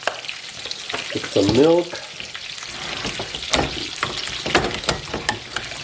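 A creamy mixture with butter and milk is stirred in a pan, giving a soft bubbling sizzle with repeated scraping strokes, close, while a person speaks briefly.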